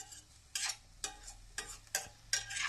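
Onions sautéing in a pan with mustard seeds and curry leaves, heard as soft sizzling broken by about six sharp scraping stirs at irregular intervals, close and fairly quiet with no talking.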